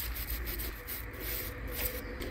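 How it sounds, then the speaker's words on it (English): Rubbing and wiping inside a rear brake caliper of a BMW F07 530d GT during a pad replacement, a steady soft scrubbing close to the mic, with no talking. "You can clean the inside of the brake caliper as well."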